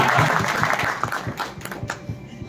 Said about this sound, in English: Let us give him a big round of applause.